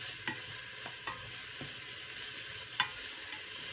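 Carrots cooking over medium-high heat in a soup pot with a little salt and pepper, a faint steady sizzle with a few soft clicks of a spoon against the pot, quiet and alone.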